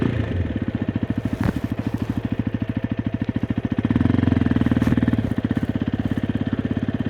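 A Hero Xpulse 210 motorcycle rolls along at low speed with the clutch released, its single-cylinder engine thumping in a steady, rapid, loud pulse close by, rising slightly midway and then easing; no speech.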